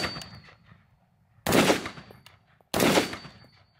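Two loud, close M1A rifle shots spaced over a second apart, each a sharp crack with a ringing tail from the bolt cycling and closing, with quiet mechanical clicks between them.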